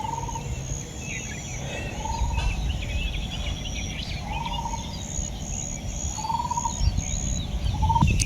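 Short bird calls recur every couple of seconds over a steady outdoor hum and a high, thin insect-like chirring.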